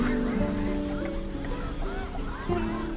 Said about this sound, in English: A sanctuary for millions of migrating waterfowl.